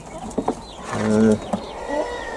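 Young quail chicks in a backyard quail house give a few brief, close peeps and a short sustained warbling call, separated by pauses over a soft ambient background.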